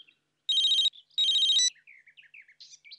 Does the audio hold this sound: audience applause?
no